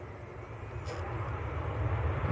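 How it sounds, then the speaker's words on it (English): An Emirates airliner landing at Manchester Airport, heard as a continuous low, rumbling jet roar that holds steady and swells slightly over a couple of seconds, with no voices. "Matt says Emirates on short finals"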